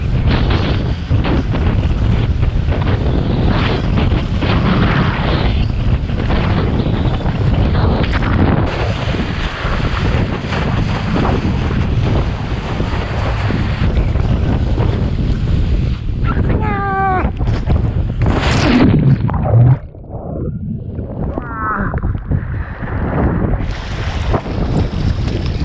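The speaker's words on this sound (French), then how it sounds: "Le vent est creux là, c'est incroyable." Loud, gusty wind roars and buffets the microphone while kitesurfing on the sea, with water rushing beneath; someone speaks briefly as the gusts drop and rise again.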